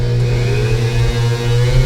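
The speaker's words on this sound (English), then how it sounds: "So we're going to fire up the engine a little bit here" An engine revs while warming up, giving a loud, close, steady droning whine that holds for about two seconds without voices.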